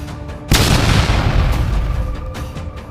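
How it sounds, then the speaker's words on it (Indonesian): A main door blown open by force, one sudden loud boom followed by a long, rumbling decay with rough, crackling debris noise. "Terdengar suara pintu utama yang meledak setelah didobrak dengan paksa."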